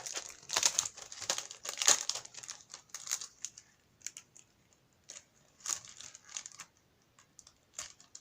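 Plastic packaging sachets from craft dies are handled and pulled off, giving close, crisp crinkling and rustling in irregular bursts with short pauses between, no voices.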